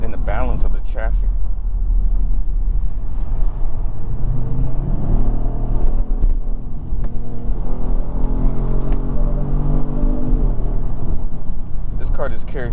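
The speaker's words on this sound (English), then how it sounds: "This car just carries its speed so well around the back road." A 2019 Kia Stinger GT1 rear-wheel-drive car drives along a back road, its engine rumbling and climbing in pitch as it accelerates, heard from inside under a voice talking.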